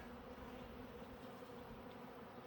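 Honeybees buzzing around a hive while nucleus colonies are transferred in, a faint, steady, unbroken drone of many insects with no voices.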